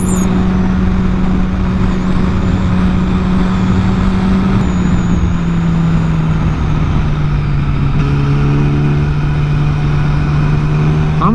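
A Yamaha R6 sport motorcycle cruises at speed in sixth gear, its engine a loud, steady drone with a sustained low tone that dips slightly in pitch partway through, under constant wind and road noise.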